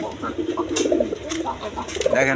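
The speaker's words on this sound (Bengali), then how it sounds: "দর্শকবৃন্দ এখানে এক পেয়ার কোকা কবুতর আছে" A pair of Koka breed pigeons coo softly and repeatedly at close range, low burbling calls running under someone talking.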